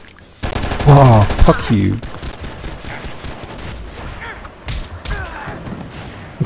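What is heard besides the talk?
gunfire from enemy in the video game Oni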